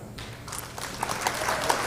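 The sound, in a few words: applause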